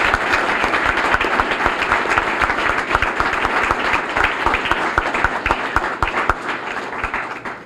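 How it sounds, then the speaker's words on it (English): A hall audience applauds continuously and loudly at a police chief's citizen awards ceremony, dense steady clapping holding for several seconds before tapering slightly at the end. "Let's give them a round of applause."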